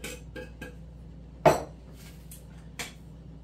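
A teaspoon scoops organic coconut oil, giving a few light metallic clinks and taps with one sharper knock in the middle. The sounds come close by in a quiet room.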